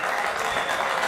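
Audience applause at a regional speed championship trophy ceremony, a steady dense wash of clapping held at even loudness throughout the short moment, with no voices over it.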